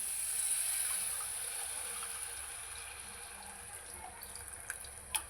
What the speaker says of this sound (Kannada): ನಮಗೆ ಎಷ್ಟು ಬೇಕೋ ಅಷ್ಟು ನೀರು ನೋಡ್ಕೊಂಡು ಹಾಕೋಬೇಕು.